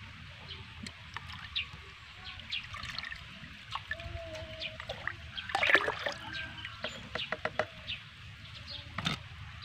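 Liquid, 200 ml of a homemade plant fertilizer mix, is poured into 3 liters of water: a soft watery trickle and splash swelling near the middle, over a low background rumble, with no speech.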